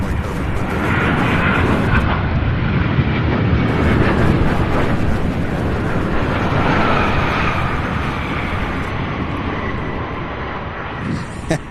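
Heavy aircraft landing at Louisville SDF airport, a loud broadband jet roar that holds steady for the whole stretch, close and continuous, with a faint voice in the background.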